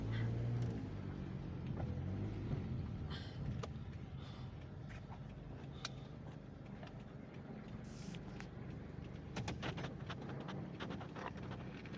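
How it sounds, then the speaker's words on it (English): A car approaches on a windy city street, its faint, steady road rumble growing under wind buffeting on the microphone, with a few scattered clatters and no talking. "And I got a car coming."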